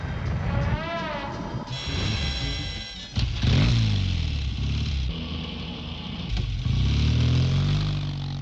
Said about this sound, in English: Road traffic noise exceeds the limit that experts consider bearable.